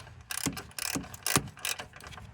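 A ratchet tightens a bolt on the broken coolant pipe of a 2010 Toyota Corolla, with four quick, close bursts of clicking pawl strokes in an uneven rhythm.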